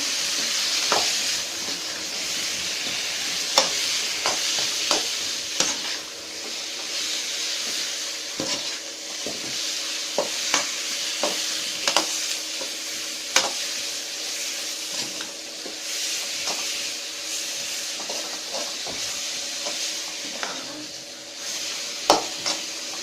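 Steady sizzling of potatoes frying in masala for potato kurma, with repeated scraping and stirring clicks of a spoon against a pan, close up, no talking.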